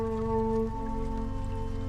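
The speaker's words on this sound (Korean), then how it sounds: "결국 비를 쏟아내기 시작했습니다." Steady rain pattering down around a lone mountain wildfire-lookout post, a continuous soft hiss of drops laid under a sustained low musical drone, with no voices.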